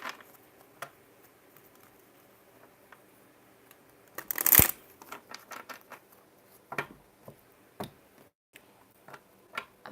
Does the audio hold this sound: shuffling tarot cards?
yes